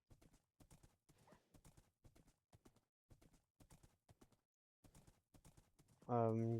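Horse hooves clip-clop in a video game, a run of short paced hoofbeat clusters repeating steadily before a loud sudden horse call right at the end.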